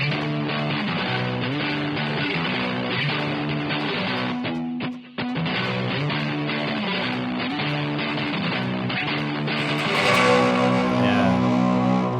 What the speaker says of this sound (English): You have the break up from the overdrive and then the distortion